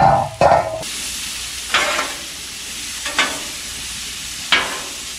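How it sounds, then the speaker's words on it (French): Cooked potatoes stirred and frying in a pan, a steady sizzle broken by a few distinct scraping strokes of a utensil spaced over several seconds. "On va mélanger le tout. Et nos patates, nos petites pommes de terre."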